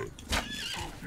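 A horse in the Wild West video game Outlaws of the Old West neighs once, a short bright whinny under faint background game ambience.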